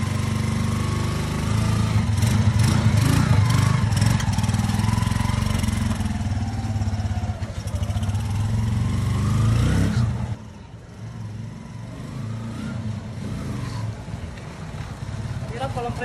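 A motorcycle that had sat unused for six years runs loudly and steadily at close range, then drops to a lower, quieter idle partway through, with people talking over it.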